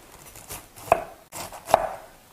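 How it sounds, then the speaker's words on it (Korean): A knife chops green onions on a cutting board for kimchi, with two crisp, close board knocks about a second apart. "적당하게 길이가 2cm 정도 되게 썰어줘요"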